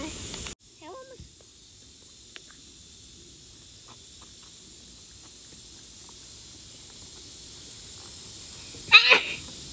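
A single sharp sneeze near the end of a quiet indoor stretch, loud and close against faint background hiss, with a brief noise at the start and a little voice early on.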